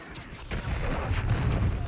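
Cruise missile strike in Call of Duty Modern Warfare III: after a brief lull, a heavy booming blast erupts and rolls on as a dense, rumbling roar, loud and sustained to the end.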